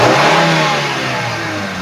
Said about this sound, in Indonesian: Kita sedikit gas, naikkan RPM.